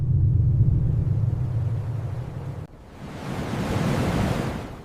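Heavy sea waves surging over land, a deep rumbling roar that swells, drops abruptly partway, then builds again into a broad crashing wash.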